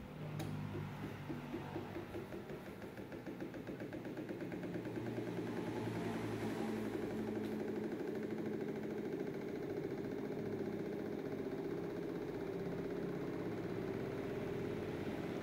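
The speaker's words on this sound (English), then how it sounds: "Now the motor can start very easily now." A Newman motor starts up and then runs with a steady, continuous humming drone. The sound is moderately close, faint, and heard on its own.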